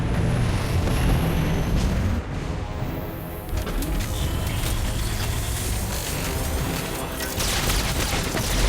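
A Protoss ship fires down on a capital city in StarCraft 2, producing a dense, rumbling barrage of booms and crashes that continues steadily, with sharper impacts around the middle.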